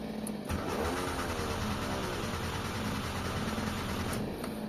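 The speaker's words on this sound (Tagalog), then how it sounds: "start natin yung makina. And try natin kung aandar." A Mitsubishi Lancer with low power is started up, its engine cranking and then running with a steady close rumble for several seconds, with no talk over it.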